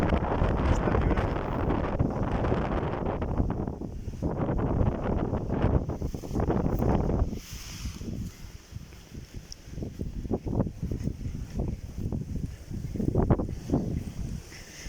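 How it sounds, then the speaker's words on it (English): Tramontana wind gusting along the Costa Brava coast near El Far d'Empordà, a loud, steady roar buffeting the microphone that eases midway, then returns in irregular bursts and rumbles. "So if you like to enjoy the forces of nature with this wind, that's the place to go, to come. With the tramontana."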